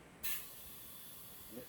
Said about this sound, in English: I'm ready to put some air in